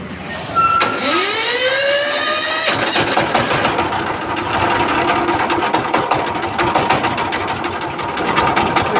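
An engine cranks with a rising whine and catches after its gear timing has been set without marks, then settles into a steady, fast, close-up running clatter.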